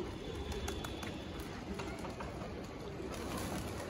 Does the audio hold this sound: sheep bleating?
no